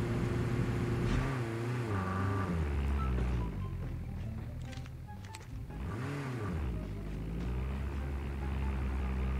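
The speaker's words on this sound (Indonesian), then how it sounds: "Mobil Batman nih coy." The Batman car in Call of Duty Mobile drives with a steady engine drone whose pitch rises and falls as it revs and shifts, running continuously and fairly close throughout.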